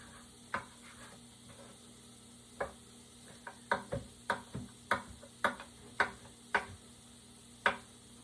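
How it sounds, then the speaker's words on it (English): A knife chops salami on a cutting board in a series of sharp, close knocks, irregular at first and then a quicker run of about a dozen cuts in a quiet kitchen. "I'm going to take this salami and separate it, and I'm going to chop it up to add to my hodgepodge pasta"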